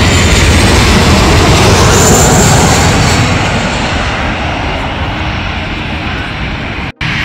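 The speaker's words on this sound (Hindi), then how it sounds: "तो ये जहाज़ अब जाने के लिए तैयार, रनवे पे जा रहा है, उड़ने के लिए तैयार हो रहा है।" A jet airliner taxiing toward the runway at Manchester Airport, a loud, steady engine roar and whine close by that fades slightly toward the end before cutting off abruptly.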